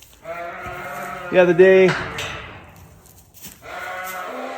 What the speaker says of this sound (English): Just here in the barn with the sheep and the lambs.